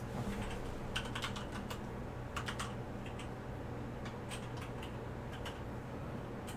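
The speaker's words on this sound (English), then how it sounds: "I just typed what we should be typing" Typing on a computer keyboard: quick bursts of close key clicks, irregular and light, over a steady background hum.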